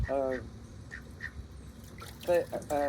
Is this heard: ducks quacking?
yes